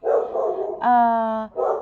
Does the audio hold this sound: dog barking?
yes